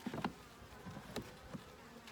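Honeybees inside a top bar hive during an inspection, with soft continuous buzzing close by, quiet overall, and a few faint knocks from combs being handled.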